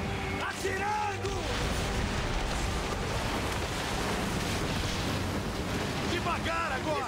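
Ship cannon fire in Assassin's Creed Origins, heavy booming blasts layered over sea and wind noise with shouting crew voices throughout, forming a dense, continuous roar.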